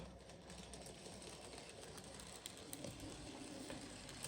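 Faint, quiet running of a British N gauge model steam goods train on its track, a soft continuous rolling rumble with small clicks and ticks from the wheels, no talk.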